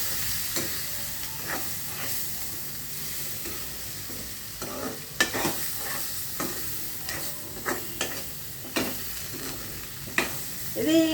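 A spoon stirs drumstick curry in a pan, scraping in irregular strokes over a steady, soft sizzle, with sharper clacks now and then and no talk.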